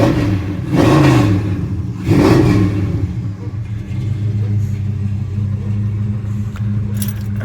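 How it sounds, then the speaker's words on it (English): A Dodge Challenger's engine is revved twice in quick succession, each rise swelling then falling back to a deep, steady idle rumble, loud and close, with faint jingling on top. "We'll give it a little rev."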